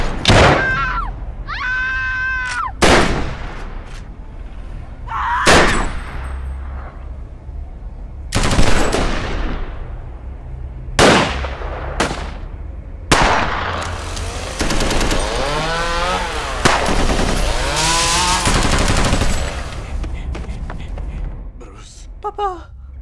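Sharp bursts of gunfire crack out repeatedly in Lego Batman, some in rapid volleys, interspersed with shouts, grunts and a voice speaking Italian between the shots.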